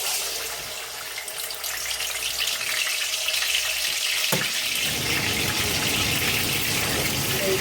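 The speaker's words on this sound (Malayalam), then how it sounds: "അത് നമ്മൾ എണ്ണയിലോട്ടിട്ട് വറുത്തെടുക്കണം" Chicken frying in hot oil for Arabian machboos, a steady broad sizzling hiss throughout, growing louder and denser after a brief sharp clatter midway as more pieces go into the pan.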